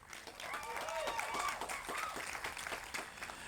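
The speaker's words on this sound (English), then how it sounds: "Give them a round of applause" A crowd at a domestic violence awareness walk claps for two deputy chiefs, a fairly faint, steady patter of applause outdoors with some voices mixed in.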